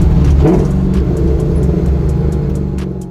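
A 1969 Camaro with an LS3 V8 revs hard and accelerates, a loud, close, steady roaring drone that holds for a few seconds before easing off slightly at the end.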